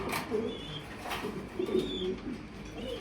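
Pigeons at a pigeon farm coo in soft, repeated low calls, several birds close by, with faint chirps and background noise between them.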